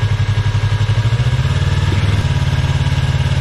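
A motorcycle engine idles steadily and close, its low rhythmic putter carrying on without a break while the clutch is released and the bike rolls slowly. No voices are heard.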